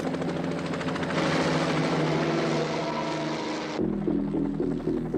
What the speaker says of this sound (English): We're getting out of here in the WGON traffic control helicopter.